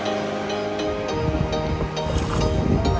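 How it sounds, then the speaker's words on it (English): The Metolius River flows past a fish hatchery near Sisters, Oregon, a loud, continuous rush of moving water close by with some wind buffeting the microphone. "The Metolius River at the fish hatchery."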